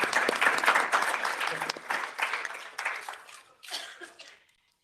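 Conference audience applause at the European Parliament in Brussels, a burst of clapping that starts strong, then thins into scattered claps with a cough or two before dying away to silence.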